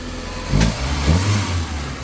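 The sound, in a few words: Maruti Gypsy engine starting with self-starter and revving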